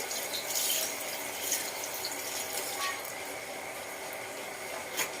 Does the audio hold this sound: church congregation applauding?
no